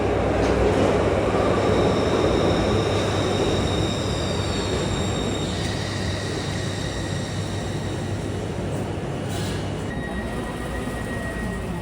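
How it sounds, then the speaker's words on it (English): A new Stadler-built Glasgow subway train running underground at speed, with a loud steady roar of wheels on rails and thin metallic squeals rising and fading throughout. "The new Glasgow subway trains, built by Stadler, were introduced last year to replace the old Glasgow subway trains"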